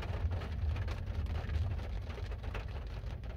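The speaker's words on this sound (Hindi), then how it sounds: "बारिश स्टार्ट हो चुकी है और टिम टिम टिम टिम शायद आपको आवाज़ भी आ रही होगी" Steady rain patters continuously, with a low rumbling wash underneath, no voices.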